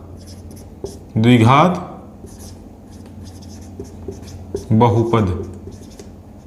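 A pen scratches across paper while a math problem is worked out, with soft continuous writing strokes running beneath a man's explanation in Hindi.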